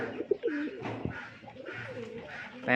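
Pure white pigeons with black beaks coo softly and repeatedly up close, a gentle throaty murmur with a few short call fragments, with no speech over it.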